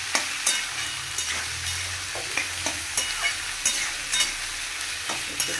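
Potatoes, onions and chillies fry together in a pan, a constant sizzle broken by regular clinks and scrapes of stirring, close and with no voices.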